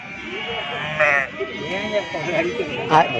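Several sheep bleat close by at the Gudur sheep market, wavering calls overlapping one another, with people talking underneath.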